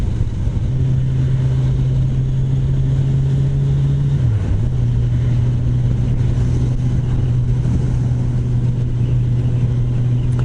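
A 2018 Kawasaki Ninja 1000 motorcycle cruising at steady highway speed, its engine note loud and continuous with a brief dip in pitch midway, mixed with constant wind rush and no talking.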